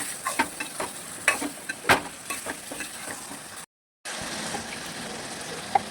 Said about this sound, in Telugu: ఇప్పుడు చికెన్ వేసుకోవాలి. ఇప్పుడు మంచిగా కలుపుకోవాలి.